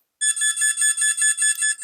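Bite alarm on a fishing rod setup sounding both on the detector and its receiver unit: a loud, shrill electronic beeping in rapid regular pulses, about eight bursts in under two seconds, close and alone.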